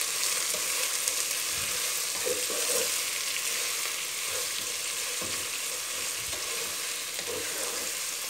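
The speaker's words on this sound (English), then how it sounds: "So I've added the onions here. Let's fry it until it becomes translucent." Chopped onions fry in a pan for a simple pulao, giving a steady, close crackling sizzle with occasional soft stirring scrapes throughout.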